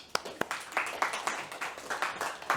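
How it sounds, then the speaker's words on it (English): Scattered audience clapping at a 17th-session Manifest gathering, a few sharp single claps followed by a thin, steady patter of hands in a modest-sized room. "So clap for us."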